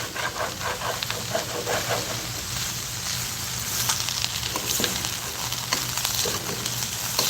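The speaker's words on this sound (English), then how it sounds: "You have to scrape the bottom of the pot here" Steady scraping and sizzling from a cooking pot, a continuous gritty rasp with occasional sharper scrapes, close and fairly quiet.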